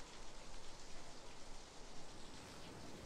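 Rain falls steadily as an audio drama sound effect, a soft, even hiss of dense drops that stays faint and constant, with no voices over it.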